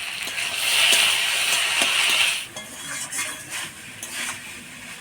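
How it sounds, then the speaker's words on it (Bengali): A spoon stirring ash gourd curry in a pot after sugar is added, scraping and clinking against the metal for a couple of seconds, followed by softer intermittent stirring taps; no talking. "একটু চিনি দিয়ে আর একটু নাড়াচাড়া করে নিব।"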